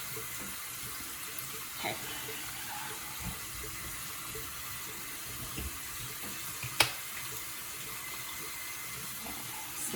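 Tap water running steadily into a sink at moderate distance while a face is dampened, a soft continuous wash with a couple of faint clinks and one brief spoken word.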